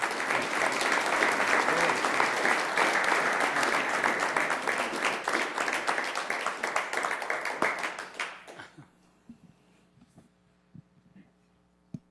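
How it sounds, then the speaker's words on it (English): Loud, dense applause fills a Sioux Falls city council meeting chamber for about eight seconds, then thins to scattered claps and quiet room hum. "Let's give them a round of applause, please."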